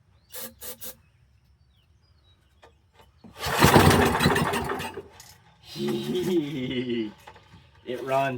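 A small generator engine is pulled to start: a few quick rattling pulls, then the motor catches and runs loudly for a couple of seconds, sputters down, and revs again, close up.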